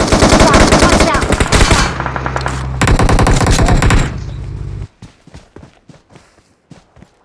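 Loud, sustained automatic gunfire in a PUBG-style online shooter, dense rapid bursts for several seconds, then it drops off into scattered single shots and footstep-like thuds, close and prominent.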